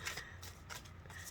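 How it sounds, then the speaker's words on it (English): A deck of cards is shuffled close by, with quick riffling bursts of crisp flutter repeated several times in rapid succession. "shuffling up the cards and seeing if I get another message from my friends today"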